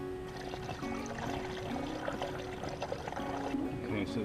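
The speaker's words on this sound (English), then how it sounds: "you can still hear it bubbling as it's settling" Inverter coolant bubbling and gurgling as it settles in the cooling system of a 2007 Toyota Prius, a steady trickling, pouring water sound running throughout, close and moderately loud.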